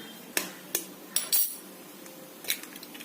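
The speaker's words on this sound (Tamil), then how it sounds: "அதுக்குள்ள முட்டையை உடைச்சு கலக்கி வச்சுக்கலாம்" Eggs being beaten in a bowl for a chapati egg roll, heard as a handful of sharp, irregular clinks of utensil against the bowl, close and spaced apart, with quieter taps near the end.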